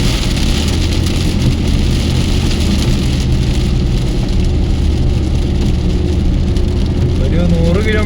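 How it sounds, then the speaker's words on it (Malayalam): Strong rain pelts a car driving on Dubai's Al Khail Road, a loud constant wash of droplets and road spray over steady engine rumble, with someone speaking over it. "മഴയുടെ സൗണ്ട് കേട്ടോ"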